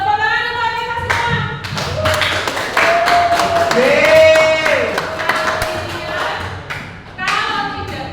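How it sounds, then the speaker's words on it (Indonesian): An audience at a teacher training session gives a burst of applause. Irregular claps and taps mix with voices and background music, staying moderately loud and close throughout. "Tepuk tangan untuk kita semua."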